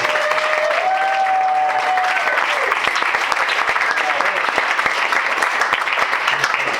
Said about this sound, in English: And get another round of applause for this.